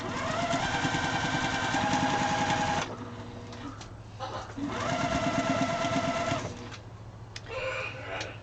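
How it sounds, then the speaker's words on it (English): A sewing machine stitches fabric scraps together in two bursts of rapid, even mechanical whirring, separated by a short pause of quieter handling noise. "And we will just sew it to this."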